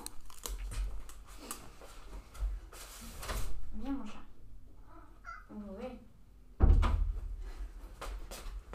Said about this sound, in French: mon chat qui veut que j'ouvre la porte